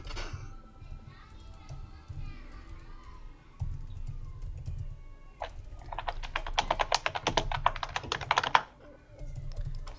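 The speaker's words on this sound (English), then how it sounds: "A lot of frantic typing." Frantic typing on a computer keyboard, a dense burst of rapid clattering keystrokes in the middle, with quieter scattered taps and faint background voices around it.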